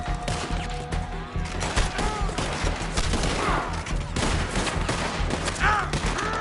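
Rapid gunfire in Red Dead Redemption 2, dense overlapping shots and ricochets crackling throughout in a loud sustained firefight over a low rumble, with faint shouting mixed in.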